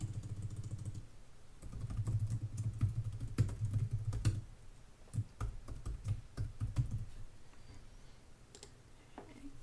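Computer keyboard keys tapped in quick irregular bursts during an online login, the clicks fairly near and moderately loud over a low steady hum, pausing briefly midway before the typing resumes.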